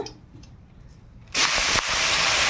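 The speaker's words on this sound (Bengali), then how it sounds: "এবার উচ্ছেটা ভেজে নেব" Salted bitter gourd goes into hot oil and sets off a sudden loud, broadband hiss and sizzle that keeps going after a quiet start, with no talking.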